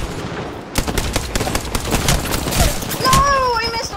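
Rapid bursts of gunfire from an Apex Legends match crackle in quick succession, with a voice talking over the shots.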